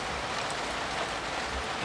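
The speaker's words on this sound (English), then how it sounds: "the rain's still coming down" Heavy rain pours steadily over a flooded garden, a dense, even hiss of falling water with no voices.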